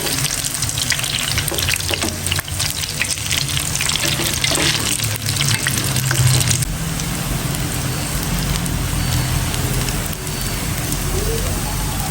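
Okoy, Filipino vegetable fritters, frying in hot oil, giving a loud, dense, continuous sizzle that holds steady throughout with no talking.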